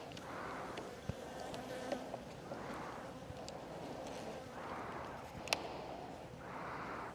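Honeybees buzzing in a hive during an April inspection with oxalic acid treatment, a low humming swarm that swells and fades in waves, with occasional small clicks and taps close by.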